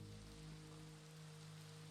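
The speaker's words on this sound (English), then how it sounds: "Oh, cool. It's raining." Steady rain patters in a Minecraft world, a soft even hiss with no other sounds.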